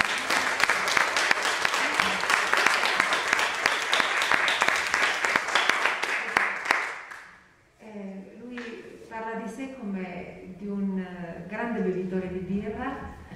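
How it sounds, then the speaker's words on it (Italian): Loud, sustained applause from an audience for several seconds, fading out before a person begins speaking. "Facciamo un altro applauso."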